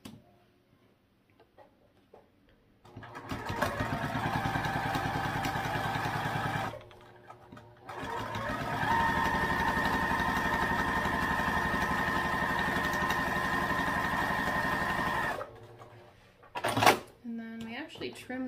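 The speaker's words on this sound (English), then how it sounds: "And we'll sew these together with half inch seam allowance." A sewing machine stitches a crossbody bag's lining to its exterior panel with a half-inch seam, running in two long steady motorized stretches with a brief pause between them, then stopping with a few small handling clicks.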